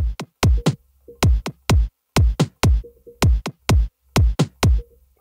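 Punchy kick drum and tom samples programmed in FL Studio play a future bounce beat, sharp isolated hits in a bouncy syncopated pattern with short pitched low tails, loud and dry with silence between them.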